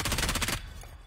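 Rapid bursts of automatic gunfire in the mobile battle-royale game Peacekeeper Elite, a loud close string of evenly spaced shots for about half a second, then dropping away to quieter game ambience.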